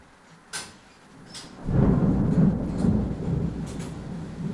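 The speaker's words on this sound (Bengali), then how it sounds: "আকাশটা কি গুড় করছে" Thunder rolls across the sky before rain, a deep rumble swelling in after a couple of faint knocks and lingering as a long, fading growl.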